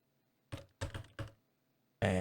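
Quick bursts of typing on a computer keyboard: a few separate clusters of clicky keystrokes with short pauses between them, then a dense final flurry, close and clear in a quiet room.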